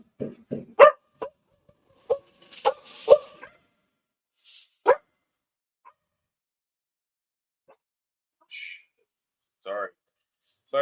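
Dogs barking indoors during a Premier League football watch-along: several short, sharp barks and yips come in scattered bursts, with a person talking between them.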